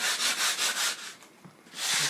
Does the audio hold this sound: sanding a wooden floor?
yes